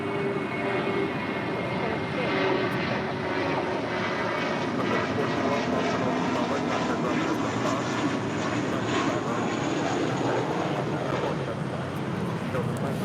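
A JetBlue Airbus A320 airliner in special livery at LAX produces a steady, loud engine roar that holds throughout, with wind buffeting the microphone.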